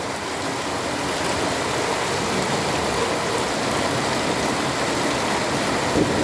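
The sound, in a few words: heavy rain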